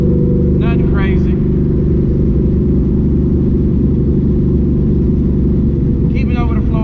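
A turbo car cruises on the highway at about 60 mph, its steady low engine and road drone filling the cabin, with brief bits of talk over it.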